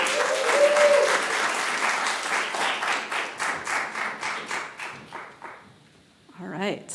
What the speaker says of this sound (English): Please, a warm round of applause for Sophie Yanow.